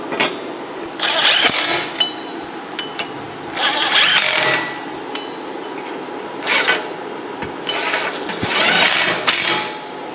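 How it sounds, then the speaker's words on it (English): Tightening three 10mm bolts on a wheel hub back shield of a 2008–2016 Town & Country or Grand Caravan, heard as four loud bursts of a power tool's whirring rattle separated by quieter gaps. "just go ahead and tighten these 3 10mm bolts down"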